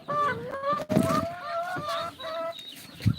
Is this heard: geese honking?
yes